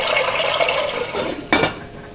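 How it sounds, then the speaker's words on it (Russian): Water poured into a 3-litre pot set on the stove for soup, a continuous close splashing fill with a metallic clank of the pot partway through. "В 3-литровой кастрюле ставлю закипать воду на суп."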